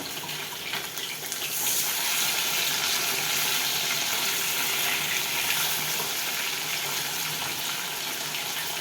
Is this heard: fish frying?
yes